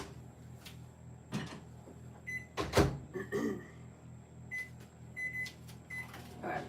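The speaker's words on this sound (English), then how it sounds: "So we're going to pop this into the microwave" A microwave oven runs for about a minute to melt St. Patrick's Day and Pi Day treats. A steady low hum carries a few clatters and knocks, with short high electronic beeps near the end.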